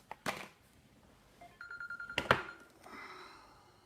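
On a live call-in radio show, an old-style telephone bell rings in short bursts with a sharp, loud ring near the middle and a fading tone after. The sound is close and clear, with no speech.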